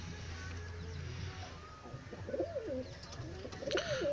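A pigeon suffering from a disease coos several times in soft, low phrases while being held, the calls rising above a steady background hum toward the end.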